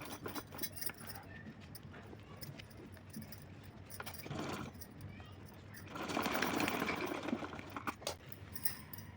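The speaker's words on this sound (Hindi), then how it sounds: "तो चलिए इसको सिल के दिखाती हूँ।" Sewing machine running in bursts while stitching and locking the edge of a small Laddu Gopal dress, a busy mechanical whir with clicks that grows louder and denser partway through.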